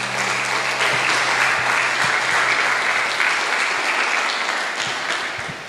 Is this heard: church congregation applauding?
yes